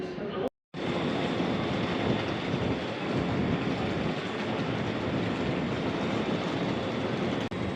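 Bergensbanen train from Oslo to Bergen rumbling steadily along the track, a dense continuous roar of wheels and carriage noise with a short silent break near the start.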